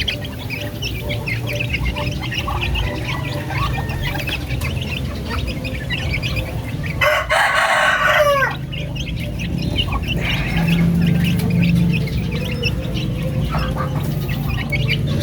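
Native darag chickens on a Filipino farm, a flock clucking and chirping continuously at close to middle distance, with one louder crowing burst near the middle and no talking.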